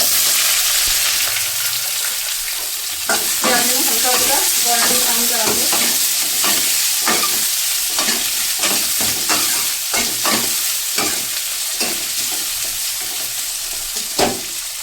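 Onions and chillies fry in about one and a half ladles of hot oil for bhindi sabji, a steady close sizzle broken by repeated scraping stirs, with no talk.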